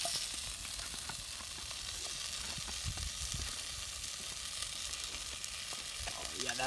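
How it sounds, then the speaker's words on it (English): Potatoes, peppers, onions and mushrooms fry in leftover meat juices over an outdoor cooking setup at a winter bushcraft shelter, a faint continuous sizzle with occasional light clicks and stirring noises. "we leave the juices for cooking our potatoes, peppers, onions, and mushrooms in"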